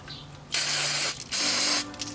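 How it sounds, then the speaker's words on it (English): Two bursts of brake cleaner aerosol spray, each hissing loudly for about half a second, separated by a short pause, close up with faint clicks, during a transmission fluid change on an Acura ZDX. "just grab some brake cleaner and spray it"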